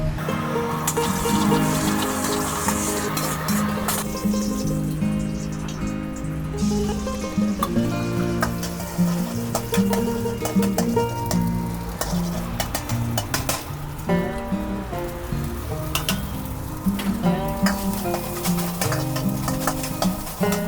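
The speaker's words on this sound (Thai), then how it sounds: "วัตถุดิบพร้อมแล้วเราก็ไปผัดกันเลยนะครับ" Curry fried rice stir-fried in a pan, a continuous loud sizzle with repeated scraping and clattering of the spatula throughout, heard alone without talk.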